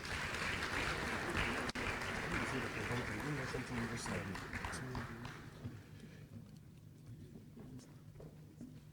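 Crowd applause at an APC political gathering for a former Lagos deputy governor, dense clapping that is strongest at first and gradually fades, with a murmur of voices underneath.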